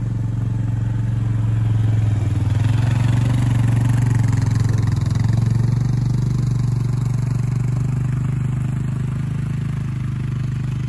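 A Honda Foreman ATV engine drones loud and steady while pulling a lawn spreader, a constant low rumble with faint rattling from the spreader, close and continuous with no talk.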